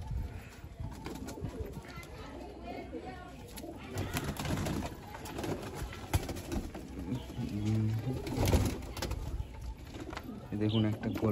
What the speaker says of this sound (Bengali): পায়রা ছাড়ছে ওড়ানোর জন্য।